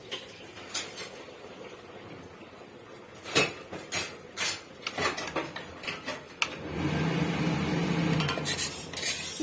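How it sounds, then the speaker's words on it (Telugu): Sago pearls dry-roast lightly in a heated pan on the stove, with the spatula scraping and clinking in separate bursts before giving way to a steadier, closer rustling stir toward the end; no one speaks. "ఈ సగ్గు బియ్యంని లైట్గా వేయించుకోవాలండి"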